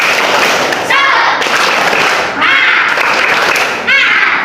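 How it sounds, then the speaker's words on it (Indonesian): A classroom of standing students performs a rhythmic spirit clap in unison, loud bursts of claps recurring in a patterned beat with short gaps between groups, with voices mixed in. "sekarang tepuk semangat"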